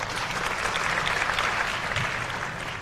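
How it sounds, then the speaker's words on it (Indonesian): A room of students at a Jakarta school leaders' Q&A breaks into applause, dense sustained clapping from a crowd heard close throughout. "Tepuk tangan dulu"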